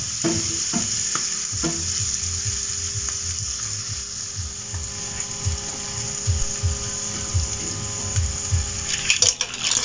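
Ingredients sautéing in butter for a mussel and pechay dish, a close, continuous sizzle with rhythmic scraping and stirring that grows busier toward the end.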